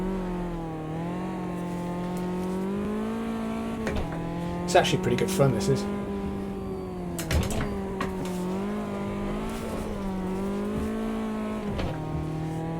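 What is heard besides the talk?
Caterham race car engine and tires in Automobilista 2 video game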